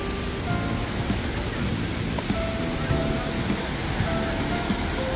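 Stream water rushing down Ssangyong valley from Simwonsa temple in summer, a dense, loud, continuous roar with faint distant voices of a crowd beneath.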